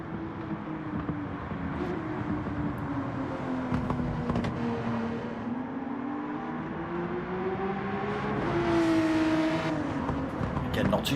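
Race cars lapping Suzuka in a racing video game, a continuous engine whine rising and falling through gear changes and passes, under steady commentary from a voice.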